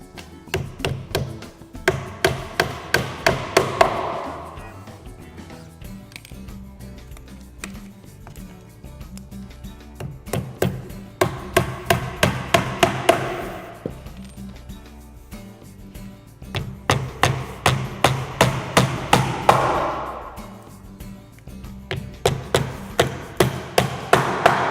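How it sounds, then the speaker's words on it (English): Rapid bursts of hammer blows drive aluminum roofing nails while an exterior door is installed, clusters of sharp, evenly spaced taps repeating in several runs with short pauses between. "nail with roofing nails"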